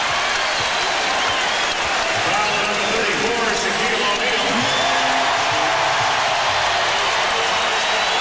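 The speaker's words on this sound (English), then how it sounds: "the crowd exults as the foul is called on Shaq" Basketball arena crowd at a 1999 Lakers versus Magic NBA game roars loudly as a foul is called on Shaq, a thick sustained wall of cheering and applause with a commentator talking over it.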